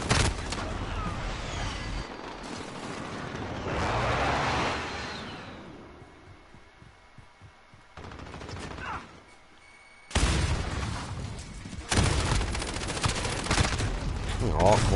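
Bursts of automatic gunfire and explosions from Call of Duty Modern Warfare on PS4, loud rapid volleys that break off into quieter gaps and then resume, with a voice speaking over them.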